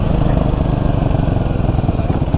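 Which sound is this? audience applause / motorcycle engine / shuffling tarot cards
motorcycle engine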